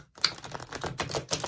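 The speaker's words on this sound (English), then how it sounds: "One more shuffle." Tarot cards shuffled by hand at close range give a quick run of crisp, rapid flicking clicks over about a second and a half, with no talk.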